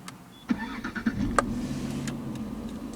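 A 2009 Jaguar XF with a 3-litre engine cranks briefly and fires up, then settles into a smooth, close idle with a few light clicks and no talking.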